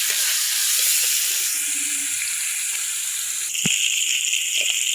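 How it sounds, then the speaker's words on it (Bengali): Small hilsa-like fish frying in oil in a pan on a home stove, a loud, steady, bright hiss that carries on unbroken, with a faint clink near the end. "এই তো আমি মাছ ভাজিগুলো বসাই দিছি"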